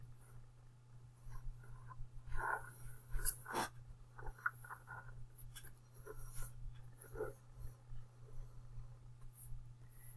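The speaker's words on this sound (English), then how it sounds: "And I'm going to draw my circle." A pencil compass scratches a circle onto paper during a geometry construction, a soft continuous scraping with small ticks and bumps, close and quiet over a steady low hum.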